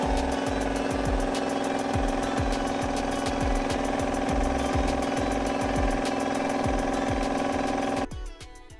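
A repaired air compressor runs loudly and close by with a steady mechanical hum. Regular rhythmic knocks from the pump come throughout, and the sound drops off abruptly near the end.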